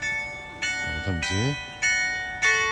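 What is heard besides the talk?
bell ringing to mark ten o'clock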